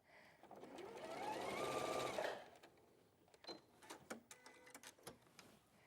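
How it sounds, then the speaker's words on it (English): A normal domestic sewing machine stitching a quilt, a steady fast whirring run of about two seconds, close and fairly quiet, followed by scattered clicks and handling knocks. "a normal sewing machine then?"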